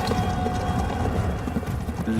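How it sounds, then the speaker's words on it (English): Horses clatter and whinny amid a fierce cavalry battle in summer, a dense continuous din of hooves and agitated neighing with no clear speech. "A lot of horses freaking out, basically, and screaming."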